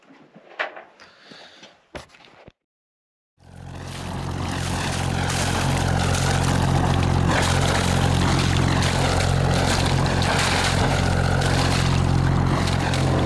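A boat engine, after a brief quiet stretch with a few knocks, starts and builds into a loud, steady running drone that continues to the end.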